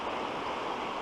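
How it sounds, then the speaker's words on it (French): Steady rushing and babbling of the Tromaret brook near Malmedy, a forest stream heard close and continuous, with broad even water noise and no voices. "Ici c'est le ruisseau de Tromaret"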